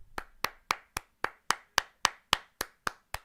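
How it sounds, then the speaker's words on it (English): Twelve sharp, evenly spaced claps ring out close and loud in a steady rhythm, a lone person applauding during a live reaction stream of an Australia versus New Zealand soccer match. "Can we get a round of applause there for it, please?"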